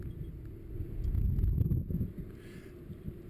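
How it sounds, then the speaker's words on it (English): A strong gust of wind sweeps across a mountain top during antenna rigging work, a low buffeting rumble that swells in the middle and then eases off, with no voices. "Another good blast of wind coming through."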